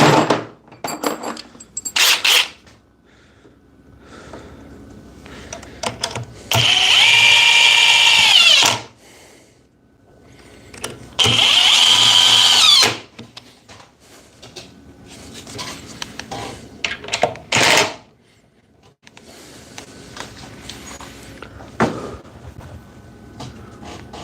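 DeWalt 860 oscillating multi tool on a fully charged 5Ah PowerStack battery, two loud buzzing bursts of a couple of seconds each, separated by handling clicks and knocks.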